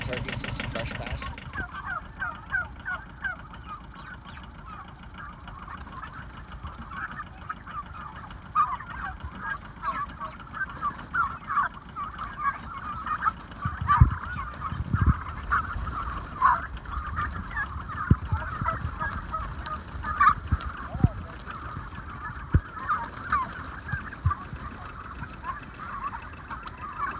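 A flock of turkeys on a pasture farm in the early morning, honking and gobbling calls repeating steadily over a long stretch at mid distance, with a faint engine hum and brief thumps underneath.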